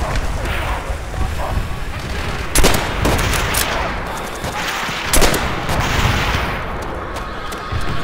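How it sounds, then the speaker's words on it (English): Artillery and gunfire in the Call of Duty World at War multiplayer game on PC, a rolling barrage of explosions with two sharp booming impacts and scattered shots amid clamour. "Enemy artillery!"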